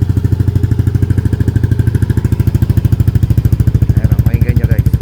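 Yamaha Aerox v2 scooter fitted with a Namban power pipe idling loudly and close after a cold start, a rapid steady thumping exhaust pulse with a brief voice near the end.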